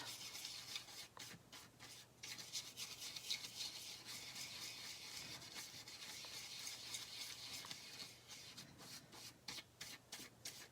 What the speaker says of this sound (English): And then you just keep rubbing the excess off.